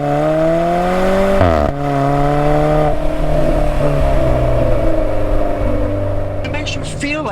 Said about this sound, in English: This car's exhaust note is intoxicating.